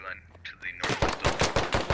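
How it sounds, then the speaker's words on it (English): Automatic gunfire in the military shooter Squad during a one-life operation: after a brief quieter moment with a tonal sound, loud rapid rifle bursts crack out in quick succession, close and punchy. "Silas shoots Alpha Guido in the back and drops him."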